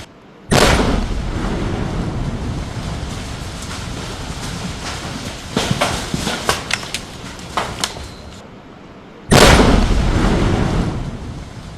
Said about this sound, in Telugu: ఉగ్రవాదుల ఇళ్లను ఒక్కొక్కటిగా బాంబులు పెట్టి లేపేస్తోంది